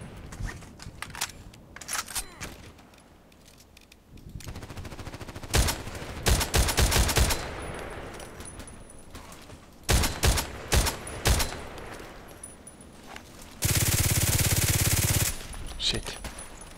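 SVD-S sniper rifle shots in a video game, sharp loud cracks arriving singly and in short clusters across the stretch, with a sustained roaring burst near the end and a voice speaking at times.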